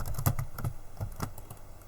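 Typing on a computer keyboard, a quick irregular run of close, crisp key clicks lasting under two seconds with no talk.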